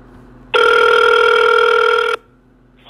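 A telephone ringback tone sounds as a call to a police line connects, one loud steady tone lasting under two seconds followed by silence and the start of another.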